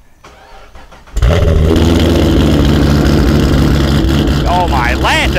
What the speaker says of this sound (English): This G8 has a Hooker Blackhawk active dual exhaust on it.